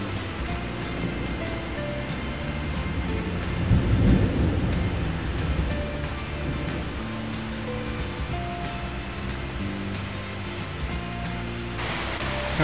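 Heavy rain pours steadily in a rocky gorge while thunder rumbles low and long, swelling around the middle, a continuous near downpour with no voices.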